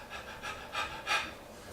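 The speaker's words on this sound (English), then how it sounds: "breathing shallowly like this." A person deliberately breathing shallowly, quick short in-and-out breaths in an uneven panting rhythm, close to the microphone with no talking.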